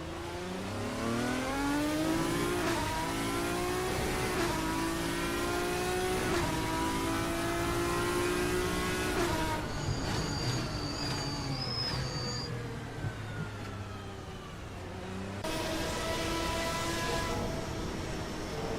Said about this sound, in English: Cormack is screaming through Blanchimont